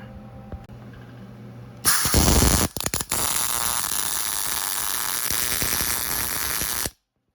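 Tack welding on a steel plate, a loud, steady crackling hiss that starts abruptly, sputters briefly near the start, then holds for about five seconds before cutting off cleanly.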